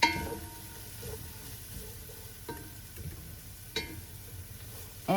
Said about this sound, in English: I like sauteing them with the onion to bring out their aroma and flavor